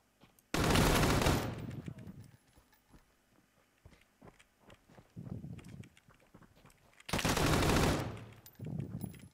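Two loud bursts of automatic gunfire from the video game Deadside ring out about six seconds apart, with scattered softer shots and footstep-like clicks in between.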